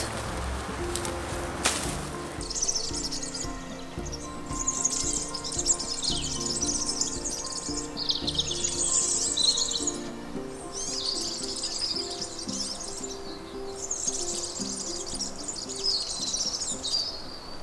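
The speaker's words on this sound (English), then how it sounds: "The birds are really happy today. It's been going on for a while this morning, all the chirping." Many birds chirp and twitter in repeated bursts on a November morning at an old farmhouse, moderately close, over a low steady background hum with no speech.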